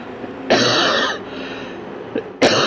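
A man's coughing while playing a Gran Turismo 7 race in a Mercedes McLaren SLR '09, a sharp nearby cough followed by a rough, throaty rasp, then a brief catch and a second loud cough.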